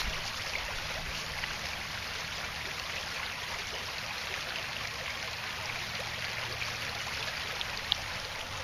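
A cold, clear creek along a hiking trail flows and trickles steadily up close, a continuous broadband rush of water with no talking.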